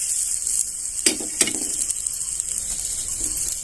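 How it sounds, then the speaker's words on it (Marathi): Onion frying in oil in a pan for a spicy Maharashtrian green vegetable dish, a steady loud sizzle with a couple of sharp clinks of a utensil stirring against the pan early on. "कांदा भाजून घेऊन तळून घ्यायचं थोडंसं"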